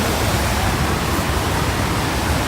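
A huge waterfall beside an abandoned factory and dam roars in a dense, unbroken rush of falling water, loud and close.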